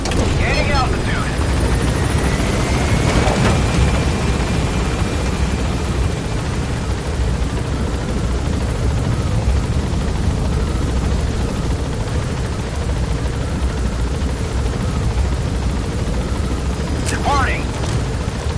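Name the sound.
helicopter gaining altitude in Metal Gear Solid V video game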